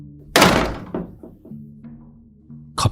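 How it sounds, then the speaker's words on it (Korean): A bathroom door slams shut with a loud, sharp bang, followed by a quiet low hum and a second brief knock near the end. "갑자기 문이 쾅 소리를 내며 닫히는 것이었다"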